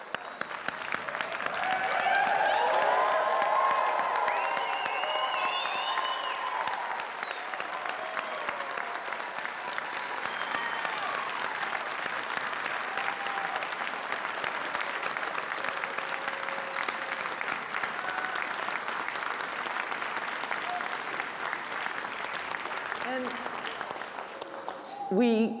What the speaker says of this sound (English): give a huge cheer of congratulations to this class